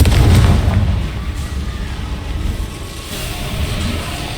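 A Confringo fire spell in Hogwarts Legacy lands with a loud, booming explosive burst at the start, then a heavy rumble that fades slightly and swells again.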